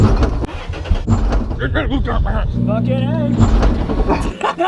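A drift car fitted with a twin disc clutch is being eased into motion, its mid-pitched engine rising and falling close by beneath a person talking throughout.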